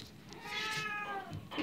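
Cat at an animal shelter letting out one drawn-out meow, fairly quiet against a faint room background.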